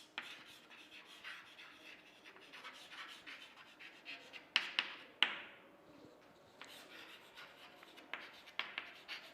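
An algorithm is written out by hand: faint, close scratching strokes with small taps and pauses between lines, quiet and without talk.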